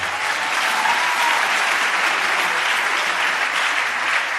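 Church congregation applauding together, a dense, sustained wash of many hands clapping at an even level throughout, fairly close and unbroken, with no speech over it.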